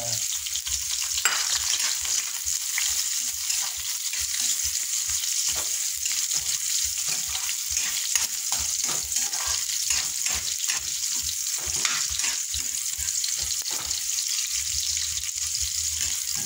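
Garlic and onion sauté in hot oil for a chicken tinola, a steady close sizzle running throughout, with a few stirring scrapes and soft knocks of a utensil against the pan.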